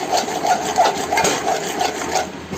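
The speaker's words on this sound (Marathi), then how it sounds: "आणखी त्याच्यानंतर पूर्ण मिक्स करून घ्यायचे आहे." A spoon scrapes and stirs steadily in a pan as ginger-garlic paste is worked into a village-style masala fish curry, a continuous rhythmic rubbing with repeating strokes about every third of a second.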